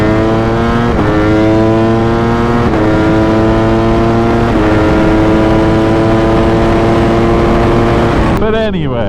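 A sport bike motorcycle ridden hard at speed, its engine droning loud and steady through several gear shifts with rushing wind noise, ending in a quick rev change.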